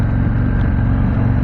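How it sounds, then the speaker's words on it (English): Harley-Davidson Street Glide motorcycle engine in sport mode, a loud, steady low rumble heard while riding, with wind and road noise blended in and no voices. "there's something about the acoustics of the engine"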